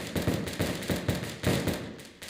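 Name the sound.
gunshots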